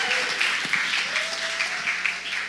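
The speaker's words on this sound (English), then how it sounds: "Come on, if we applaud properly." Audience applause at a Sabbath talk on spiritual disciplines, close, dense clapping that stays steady for the whole stretch, with a faint voice briefly rising through it.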